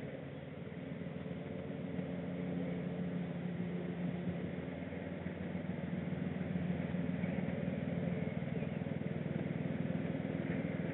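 A ride-on lawn mower engine runs nearby as a steady, moderately faint drone, with outdoor background noise and no talk.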